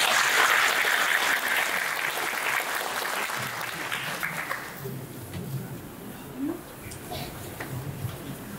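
Applause from residents at a neighbourhood redevelopment briefing in Mokdong, loud and dense at first, then thinning out and fading into quieter room noise with a few scattered claps.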